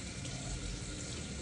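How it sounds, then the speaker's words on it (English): Warm water runs steadily from a tap over a tongue scraper being rinsed, in a continuous, even splashing hiss, close and moderately loud throughout. "So I just wash it off with like some warm water."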